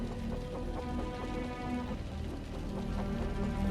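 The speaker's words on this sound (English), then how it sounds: "The rain's getting heavier." Steady rain pours in the video game Wuthering Waves, a dense, even hiss of falling water that holds at a constant level throughout, with a soft low musical drone running underneath.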